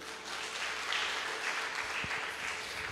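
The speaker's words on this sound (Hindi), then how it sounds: "ताली नहीं बजाएंगे?" A church congregation at a Hindi-language service breaks into clapping, a brief, dense burst of many hands that swells and then continues evenly for a few seconds with no voices over it.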